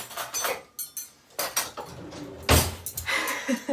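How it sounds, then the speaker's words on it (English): Metal cutlery and dishes clatter in a kitchen during sandwich and bean preparation, several sharp irregular clinks and knocks separated by brief pauses, close and moderately loud, with no speech. "cutlery"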